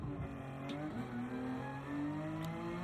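Race car engine in Gran Turismo 7 braking and downshifting, a steady loud engine drone with shifting pitch through a missed braking point, no talk.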